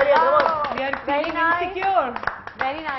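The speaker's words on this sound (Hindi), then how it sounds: "तालियां" Studio audience clapping on a Hindi-language TV game show after a contestant answers three questions correctly, the claps tangled with loud voices or music throughout.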